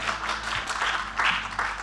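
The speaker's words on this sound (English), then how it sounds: "Yes, you can clap." An audience claps during a talk on eldercaring coordination, a short burst of dense applause that stays fairly loud and even, with no voices over it.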